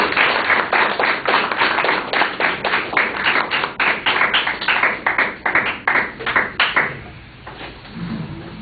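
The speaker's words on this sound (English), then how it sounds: "Yes, you can applaud." A small audience claps in a hall, the applause coming as a string of distinct, fairly close claps that rise and fall for several seconds before dying away abruptly.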